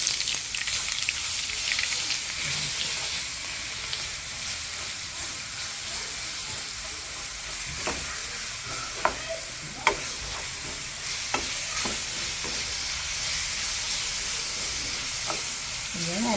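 Garlic cloves fry in oil on a low flame for a three-month garlic pickle, giving a steady broadband sizzle throughout with a few sharp spoon scrapes and pops near the end.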